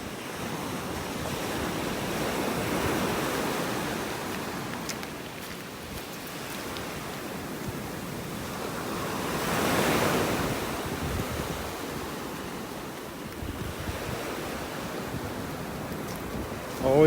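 Ocean waves and surf on a beach in North Naples, Florida, a continuous broad wash of breaking water with gentle swells in loudness, mixed with wind buffeting the microphone.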